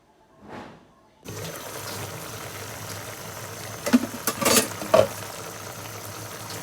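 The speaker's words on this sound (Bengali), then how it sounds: "এখন আমি শোল মাছ রান্না করতেছি। ভুনা করতেছি শোল মাছ।" Snakehead fish braising in spiced oil in a home pan for lunch, a steady low sizzle after a faint opening sound, with a few louder scraping stirs near the end.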